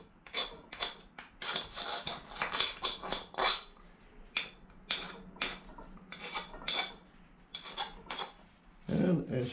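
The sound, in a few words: hand file removing burrs from cut aluminum frame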